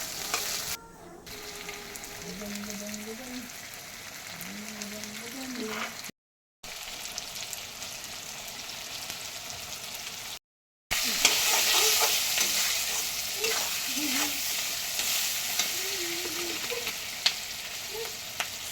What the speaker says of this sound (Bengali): টমেটো দিয়ে একটু নেড়ে চেড়ে একটু দিয়ে দেবো হলুদ লবণ দিয়ে ভালো করে এটাকে ভাজতে হবে